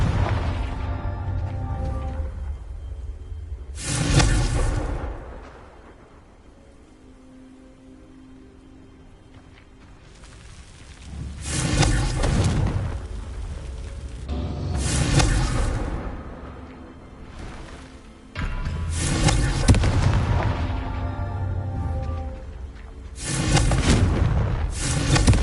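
Confringo fire spell blasts in the Hogwarts Legacy video game: a handful of loud, booming bursts with whooshing tails, separated by quieter stretches of low rumble, sounding close and heavy.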